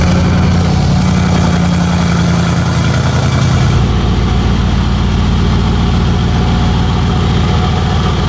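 A Mercedes G63 Star Trooper idles with a deep, grumbling exhaust. The rumble is loud and close and runs steadily throughout, with the tone shifting lower and rougher about halfway through.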